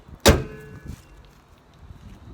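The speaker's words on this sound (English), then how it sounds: "All right, let's close this hood." Hood of an Acura TL slammed shut outdoors: one loud, sharp metallic thunk with a brief rattle, then a softer knock and quiet ambient background.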